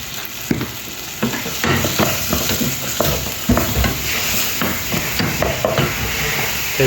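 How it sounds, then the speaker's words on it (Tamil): Ginger garlic paste sizzles in a pan for dal fry, a continuous frying hiss broken by repeated scraping and clinking strokes of a spoon stirring against the pan, with no talking. "இஞ்சி பூண்டு பேஸ்ட்டு இஞ்சி பூண்டு போட்டு நல்லா வதக்கணும் ஒரு அஞ்சு நிமிஷம் நல்லா வதக்கணும்"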